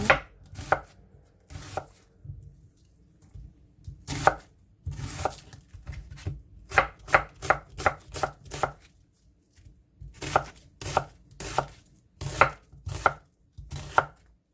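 A knife chopping onion on a cutting board, with irregular bursts of sharp, close chops, some single and some in fast runs, separated by short pauses and no talk.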